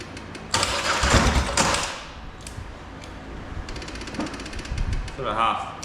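A Polaris Sportsman 850 XP ATV, with a suspected dead fuel pump and powered by a jump pack, cranks over in two short loud bursts without firing, with clanks and rattles in between.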